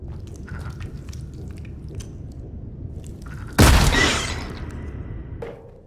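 In the horror game Scorn, a weapon blasts a limb off a creature with one loud, close boom, preceded by low wet squelching and followed by a fading, rumbling tail.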